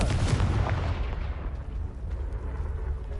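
A Confringo spell blast erupts in the video game Hogwarts Legacy, a loud booming explosion with a rumbling burst that decays into a lingering low roar, no talk over it.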